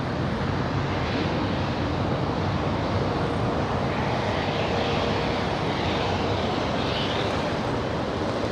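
A Qatar Airways airliner crossing the runway at LAX produces a broad, steady jet engine roar heard from a distance, with constant rushing noise and no breaks.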